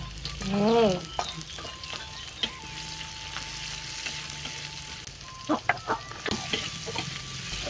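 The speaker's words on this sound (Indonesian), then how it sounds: "Oh, bumbune digone lur." Sliced spices sizzle loudly in a hot pan for sambal teri, a continuous fry crackle with a few sharp spatter pops and a brief rising squeal near the start.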